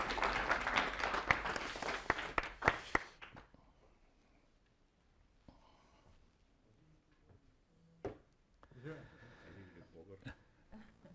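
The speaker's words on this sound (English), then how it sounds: "And you can start clapping for Barney." Audience applause at a grain industry symposium on stage, loud dense clapping for about three seconds that stops abruptly, followed by quiet room noise and a few faint sounds.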